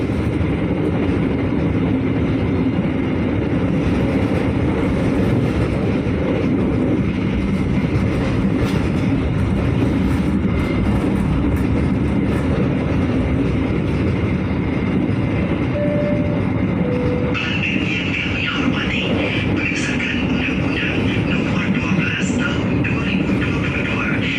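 Bangunkarta passenger train running on rails past Arjawinangun station, a loud continuous rumble and rattle of wheels and carriages heard from on board, steady throughout with a brighter metallic hiss joining in the latter part.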